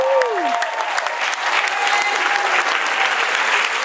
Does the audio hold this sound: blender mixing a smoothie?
no